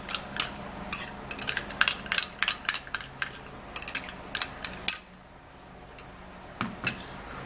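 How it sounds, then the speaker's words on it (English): A spoon stirs a banana-peel mixture in a bowl, giving a quick run of sharp clinks and scrapes that pause briefly and then return for two last taps. "And now make a good stir. Mix it up with other ingredients that were in there already."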